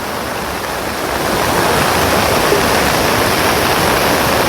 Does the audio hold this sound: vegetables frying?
no